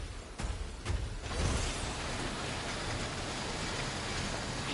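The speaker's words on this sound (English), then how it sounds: "This rain is toxic." Steady toxic rain hissing down in a video game, dense and continuous, with a few louder thumps at the start before settling into an even patter.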